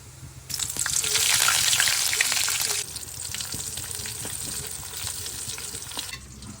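Cumin seeds and green chillies frying in a pan for puri curry: steady loud sizzling and crackling with stirring scrapes, the sizzle stronger early and then settling to a softer hiss.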